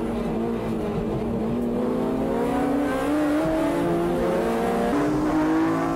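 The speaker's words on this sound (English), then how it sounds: "Behind the top group, the NSX and the S2000 are ganging up on the MCR R34." Race cars including a Honda NSX, a Honda S2000 and an MCR Nissan Skyline R34 battle on a circuit, engines roaring continuously with rising revs and a brief shift, steady and loud throughout with no talk.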